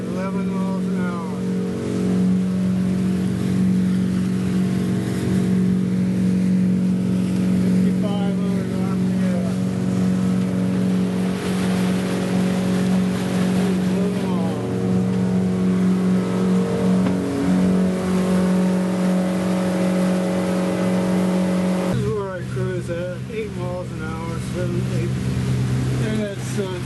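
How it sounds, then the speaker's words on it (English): A motorboat runs wide open at about 3,900 RPM and 11 mph on Shadehill Reservoir, its engine a steady, close, unbroken drone with a slight shift in pitch near the end. "taking the boat to rendezvous."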